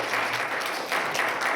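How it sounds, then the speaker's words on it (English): Conference audience applauding after a talk at a PHP Hampshire meetup, a steady dense wash of many hands clapping that holds throughout without voices. "big round of applause for actually setting up"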